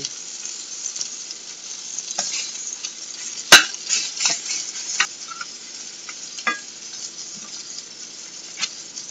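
Peppers and onions sauté in butter in a pan with a steady, quiet sizzle, broken by occasional scrapes and clinks of a utensil stirring against the pan and one sharp metallic knock.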